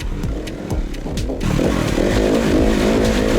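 SWM RS300R enduro motorcycle engine fitted with an Arrow exhaust, revving loud and close with a raspy, buzzing tone that rises from choppy blips into a sustained, harder-pulling drone.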